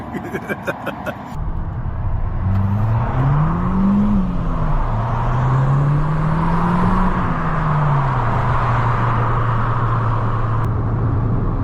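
A modified Fiat hot hatch is driven, its engine droning loudly and steadily with a tone that rises and falls as it revs and settles, heard close throughout after a few short beeps at the start.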